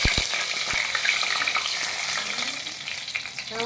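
Onion, tomatoes and chiles fry in a pan for a tortilla soup, giving a loud, steady sizzle. A few sharp utensil knocks and stirring scrapes sound near the start.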